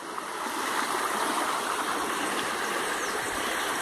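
Waterfall at Jaceruba in Nova Iguaçu, Rio de Janeiro: a steady broadband rush of falling water, continuous and fairly close, with no talk over it.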